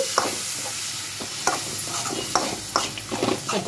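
A couple of sprigs of curry leaves crackle in hot oil for a tomato chutney, with a soft, constant sizzle broken by several quick scraping stirs of a spoon against the pan.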